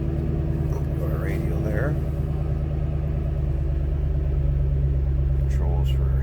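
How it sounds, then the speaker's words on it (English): A 2010 Ford Mustang Shelby GT500 engine idles with a steady low rumble inside the car, constant throughout while a person talks over it. "You're going to notice some engine noise."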